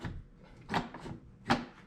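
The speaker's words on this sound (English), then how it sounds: "Check if the door works." A Jeep Cherokee XJ car door is worked after a passenger window motor replacement, giving two distinct latch clunks about three-quarters of a second apart with faint rubbing between them, close and fairly quiet.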